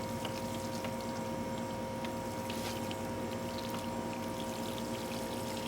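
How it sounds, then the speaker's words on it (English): Water is poured to water newly planted potted herbs on a patio, a steady continuous splashing trickle close by, with a faint tonal hum underneath. "Now what we got to do is water them in."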